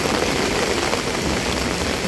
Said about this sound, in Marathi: भयानक पाऊस. बघ ते धारा बघ कसले आहेत पावसाच्या.